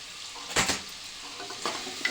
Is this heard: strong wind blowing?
no